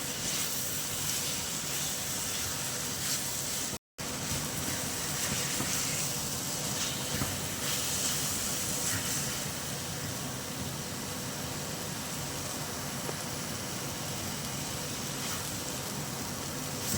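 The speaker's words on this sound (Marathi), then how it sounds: "वांगे फ्राय केलेली आहेत ती सोडूया हे पहा आणि ही छान परतून घेऊया" Fried eggplant pieces are sautéed in a pan for a stuffed eggplant curry. There is a steady, close sizzling hiss that runs continuously, broken only by a short dropout.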